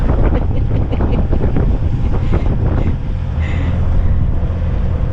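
Strong wind of about 20 knots, gusting 25, buffets a sailboat at sea off Scotland, a dense, steady roar with gusty low rumble and rushing water beneath, loud and continuous throughout.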